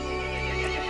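In Resident Evil Village, a horse lets out a loud, sustained whinny with a faint clip-clop of hooves beneath it, the brief cry sounding close and alone.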